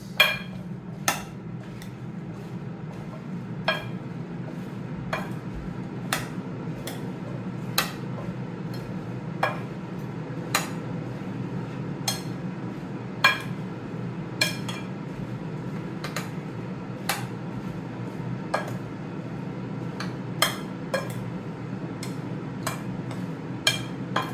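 Sweet potatoes are tossed with spices in a bowl before air frying, sparse sharp clinks of a utensil striking the bowl every second or two over a steady low room hum, no voices.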